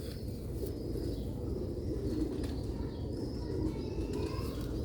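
A breeding pair of pigeons offered for sale coos softly and steadily, with a low, rolling pulse and faint chirps now and then over a quiet, constant room hum.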